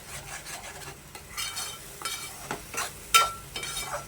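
A spoon scrapes and stirs a thick masala paste with red chilli in a pan, with irregular scraping strokes over a light sizzle and one sharp metallic clink.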